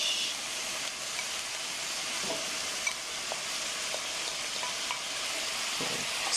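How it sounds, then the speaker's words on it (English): Bell peppers and summer squash stirred in a sizzling pan for an eggplant ratatouille, a steady broadband frying hiss with a few soft scrapes of the spoon, moderately close and with no talking. "Stirring just so everything can mix together."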